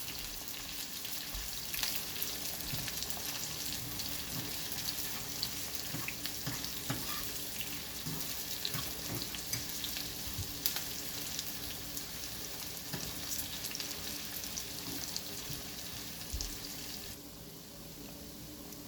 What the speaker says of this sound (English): So this is the carrot, the onion and the pepper. I'm just going to let it cook for a little bit.